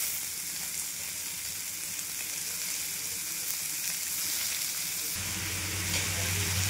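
Capsicum frying in hot oil in a pan makes a steady, close, even sizzle that carries throughout, with a slightly deeper bubbling rumble joining in toward the end.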